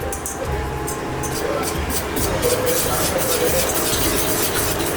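Gram flour (besan) batter with spices and coriander is stirred and mixed continuously, a loud, close, wet churning with no break.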